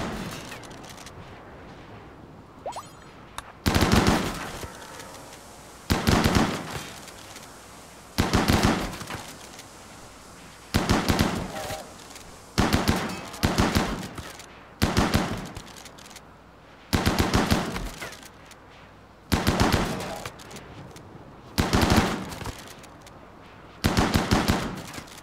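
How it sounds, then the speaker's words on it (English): A chain shotgun firing in the RimWorld video game, with loud bursts of rapid shots repeating every couple of seconds throughout and faint background between them. "Headshotting with a chain shotgun."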